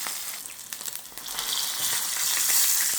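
Tilapia fish frying in a pan of hot oil, giving a steady close sizzle with a dense hiss that grows louder and fuller near the end, plus a few sharp crackles and pops early on.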